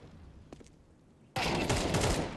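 Gunfire from a Counter-Strike esports match in ESL Pro League: after a quiet stretch with faint clicks, a loud, dense burst of rapid shots erupts and keeps going to the end.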